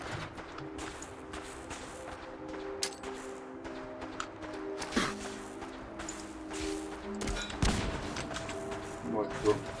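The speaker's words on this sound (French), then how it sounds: "Qui me tire dessus?" Gunfire rings out in the video game Fallout 4. Scattered sharp shots and bursts, some near and some distant, crack over a steady background of game ambience and footsteps.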